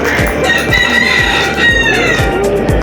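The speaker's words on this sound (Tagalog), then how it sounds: "Ayaw, may manok." A rooster crows loudly and close by in a long drawn-out call, with faint clucking and soft rhythmic tapping underneath during a rainy outing.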